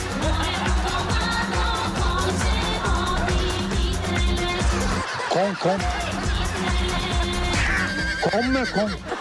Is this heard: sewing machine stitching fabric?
no